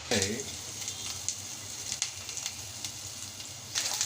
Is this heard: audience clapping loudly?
no